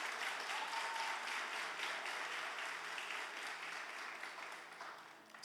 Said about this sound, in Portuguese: Aplauda a Jesus porque Ele é muito bom